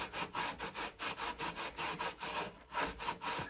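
A car body panel is rubbed and scrubbed clean from behind, making a rhythmic back-and-forth abrasive scraping of about a dozen strokes, close and steady.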